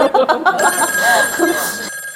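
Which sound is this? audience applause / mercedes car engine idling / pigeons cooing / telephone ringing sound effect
telephone ringing sound effect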